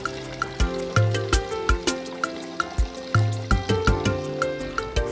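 Rice being rinsed in water ahead of cooking smoky party jollof, with irregular splashing, sloshing and trickling close by, plus several sharp knocks and clinks of grains or a utensil against the bowl.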